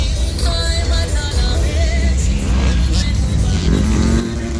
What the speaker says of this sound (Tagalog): Ito, maliit itong motor niya